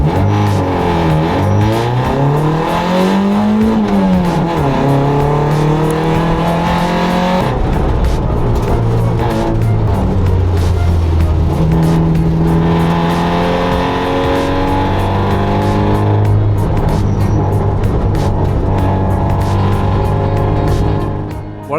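A Hyundai Excel circuit car on a rally stage in Adelaide, its engine revving hard and loud up through the gears with repeated rises and drops in pitch, heard steadily from inside the car with no talk.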